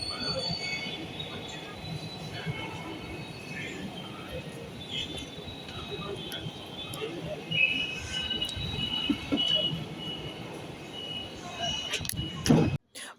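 Crowded metro train in Hyderabad near Panjagutta running with steady rumble and wheel squeal, a continuous moderately loud interior roar with a brief sharper burst near the end, people talking faintly in the background.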